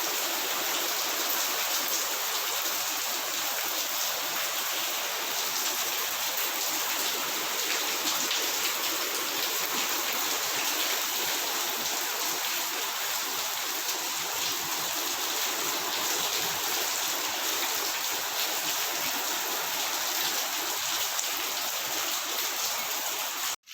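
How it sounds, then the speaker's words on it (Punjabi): Rain falling steadily outdoors, a continuous dense hiss of drops that holds at an even level for the whole stretch, with no voices. "ਆ ਗਿਆ ਮੀਂਹ"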